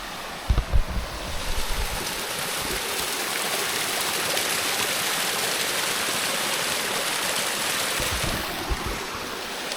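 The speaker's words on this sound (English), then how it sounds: "Little mini waterfall." A small waterfall in an English rainforest, a steady rushing splash of falling water close by, with a few soft knocks and footstep-like thumps at the start and near the end.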